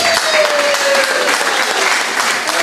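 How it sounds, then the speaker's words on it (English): Sustained round of applause from an audience at a community organization meeting, dense steady clapping filling the room without a break, with a faint voice briefly audible underneath. "You know what, Linda, again, a round of applause for Linda."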